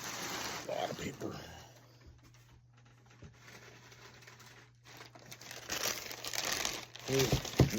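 Packing paper crumpling and crinkling while collectible toys are unboxed, with bursts of rustling at the start and end and a quieter stretch between, plus a steady low hum and some talk.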